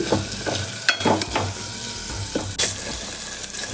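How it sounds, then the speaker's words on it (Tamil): Sliced big onions sautéing in a pan for a tomato chutney, a steady close sizzle with a few stirring scrapes and a brief sharp clink, no voices. "நல்லா வெங்காயம் வதங்கட்டும்"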